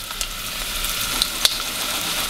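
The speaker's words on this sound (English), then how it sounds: "You can see them sizzling away." Chopped onions sizzle in a hot pan for jollof rice, a soft steady hiss with a few faint clicks of stirring, close and alone without talk.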